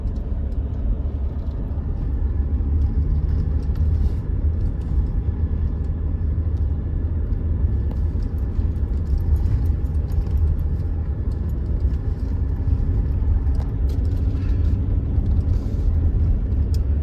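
Interior road noise of a car driving in Colorado, a steady low rumble and drone of tyres and engine filling the cabin, continuous and fairly loud.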